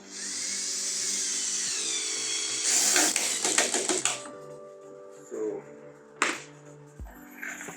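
A power drill drives screws into wood during a building project, a brief whirring run that rises into a louder burst of fast clicking and grinding, then tapers to short knocks and a thud, with someone talking nearby.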